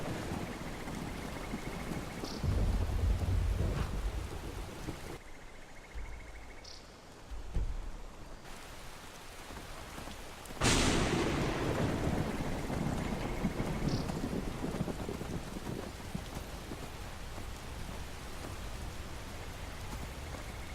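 Heavy torrential rain pours steadily in the Skyrim video game, a wide wash of downpour with wind gusting across it and a couple of low rumbling surges.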